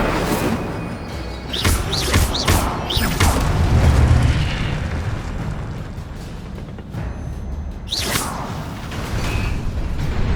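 A fire spell is cast in Hogwarts Legacy during combat, with deep booming blasts, whooshes and crackling bursts. The bursts are loud and come in rapid succession, then ease off and flare again near the end.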